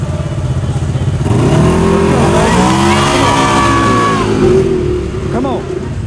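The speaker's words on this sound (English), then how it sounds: "slow down and then floor it up the face of this jump and stay in the gas until right before you hit the ground" CFMOTO ZFORCE, Polaris RZR and Yamaha YXZ side-by-sides roar at full throttle on a race course with big jumps, engines droning loudly and rising and falling in pitch as they pass close by.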